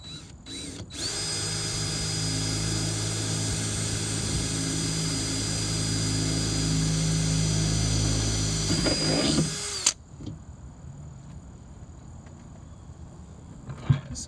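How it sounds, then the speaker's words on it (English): A power drill bores holes into a Chevy Impala door, a loud steady whine running for about nine seconds before stopping abruptly, followed by quieter handling noises and a faint click. "so I'm just drilling the holes right now."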